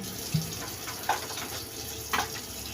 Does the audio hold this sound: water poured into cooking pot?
yes